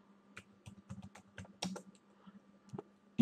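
Keys clack on a computer keyboard while someone types a search into a web browser, in short irregular bursts of crisp taps with brief pauses, close and clear, with no talking.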